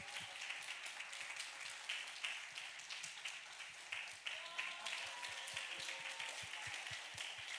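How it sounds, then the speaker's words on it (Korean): Applause from a church high school group during a pastor's gift presentation on Teachers' Day, moderate clapping with audible individual hand claps, somewhat distant and soft, continuing evenly with a low murmur of voices underneath. "큰 박수로."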